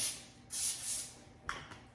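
Two short hissing bursts of cooking oil aerosol spray onto aluminum foil, close and crisp, followed by a soft crinkle of the foil and light handling noise.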